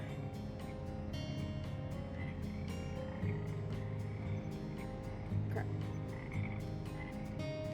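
Frogs croak steadily throughout a video game's boat scene, a dense rhythmic chorus of repeated croaks over low droning game music, with a single brief spoken word near the end.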